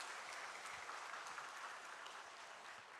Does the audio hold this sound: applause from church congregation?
yes